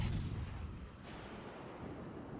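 AP shells fire from the Azuma's naval guns in World of Warships Legends: a muffled, distant boom at the start trails into a low, faint rumble.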